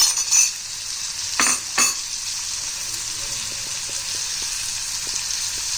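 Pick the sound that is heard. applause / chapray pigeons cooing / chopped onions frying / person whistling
chopped onions frying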